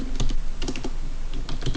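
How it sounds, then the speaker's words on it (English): Close, brisk typing on a computer keyboard, a rapid run of crisp plastic key clicks with an uneven rhythm, loud and on its own with no voices. "You can start off like that and now start typing"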